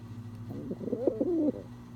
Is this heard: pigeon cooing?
yes